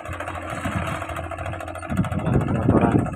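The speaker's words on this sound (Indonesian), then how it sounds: "Mesin molen ini terus bergerak." A concrete mixer engine runs at a steady, close chugging idle that swells louder toward the end, on a construction site where concrete is poured for a pool's skimmer pipe basin.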